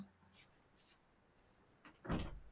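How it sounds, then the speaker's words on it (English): A window and a door are closed indoors: a quiet room with a faint rustle early on, then a single solid thud near the end. "Just closing the window, closing this door."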